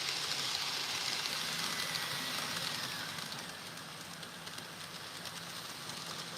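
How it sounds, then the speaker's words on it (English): Modern train running on the line beside the Kyoto Railway Museum, a steady broadband rumble and rush that eases slightly midway, heard at some distance with no talk. "giving the flavour of the modern train line running"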